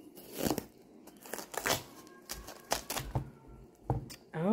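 A knife cuts into a container-grown Kaho watermelon, making close, quiet crunching and cracking bursts as the rind splits, followed by a brief voice at the end.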